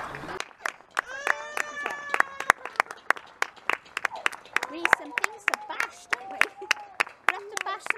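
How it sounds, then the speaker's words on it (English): Neighbours clap for the NHS on a Thursday evening, with sharp, steady claps ringing out close by while voices shout and talk over them. "It's time for the weekly clap for the NHS every Thursday at 8 o'clock."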